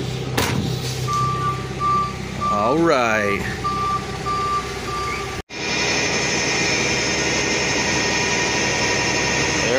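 Steady, evenly spaced reversing beeps from a tow truck over a rumbling engine, with a person briefly speaking, before an abrupt cut to louder engine noise.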